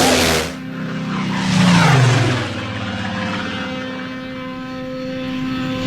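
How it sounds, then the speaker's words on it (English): A transport plane flies over Alaskan wilderness, a steady propeller-engine drone with a louder swell as it passes close, then a sustained hum continuing to the end with no voices. "the transport plane carrying Captain Global and Lisa Hayes approaches the secret headquarters of the United Earth Command"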